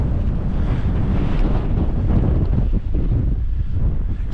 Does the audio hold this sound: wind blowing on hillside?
yes